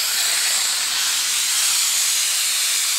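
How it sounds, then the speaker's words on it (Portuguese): A pneumatic vacuum suction machine drains power steering fluid from a car, giving off a steady, loud, broadband hiss like escaping air that holds constant throughout. "Ela é uma máquina pneumática."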